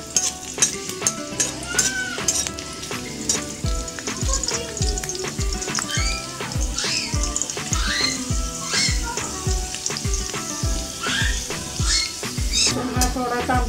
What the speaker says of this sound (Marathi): तेलामध्ये आता आपण हे लसूण पहिला टाकायचं आहे, नंतर हिरवी मिरची टाकायची आहे.